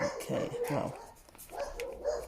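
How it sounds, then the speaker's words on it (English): A dog barks a few times close by, mixed in with a person talking. "okay, excuse the barking."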